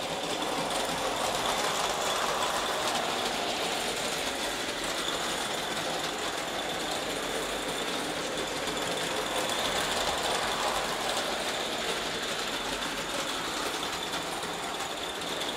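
A live steam Aster gauge 1 Titfield Thunderbolt model locomotive hauls Meccano wagons along a curved track, giving a steady, continuous rattling hiss and running clatter with no break, close by and with no talk.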